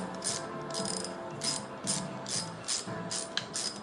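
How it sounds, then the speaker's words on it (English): Ratchet wrench clicking in short repeated bursts while tightening a bolt during a head gasket replacement on an L Series engine, close and fairly quiet with brief pauses between strokes. "My ratchet going here."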